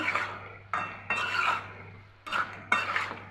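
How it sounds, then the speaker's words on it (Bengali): A spatula scrapes and clacks in a pan as taro (kochu mukhi) is stirred and sautéed for a curry with taki fish. Four or five distinct scraping strokes come close together, each fading away, over a soft, low background hum. "ছড়াটা ভালো মতো কষিয়ে নিচ্ছি।"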